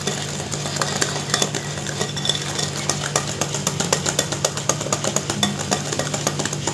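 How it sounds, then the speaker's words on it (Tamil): A butter, sugar and egg cake batter for a vanilla dry fruit cake is stirred briskly in a bowl, with fast, regular tapping and scraping of the utensil against the sides, loud and close, over a steady background hum and no talking. "சோ நல்லா கலந்து விட்டுக்கோங்க"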